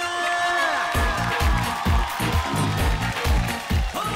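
Cheering and applause from a studio audience at a Hindi talent-show stage event, with rhythmic clapping bursts and loud music-like tones, sustained at steady volume throughout.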